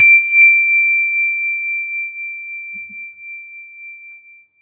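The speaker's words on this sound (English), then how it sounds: "When you detect the vibration of my bell, allow your eyelids to float open" A single meditation bell is struck once, its pure ringing tone sustaining clearly and fading slowly over several seconds in a quiet room.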